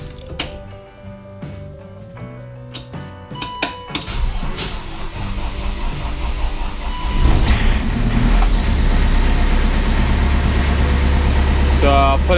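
A Ford Transit Mk1 van engine ticks over in gear, a low steady rumbling hum that grows louder and fuller partway through and then holds constant, close to the microphone, with some clanking and handling noise early on.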